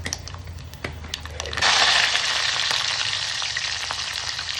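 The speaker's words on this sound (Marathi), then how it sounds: "मी टाकलेलं आहे जिरं आणि मोहरी दोन्ही एक एक चमचा" Cumin and mustard seeds, a spoonful each, hit hot oil in a pan over low heat for tempering, bursting into a loud steady sizzle after a few faint crackles.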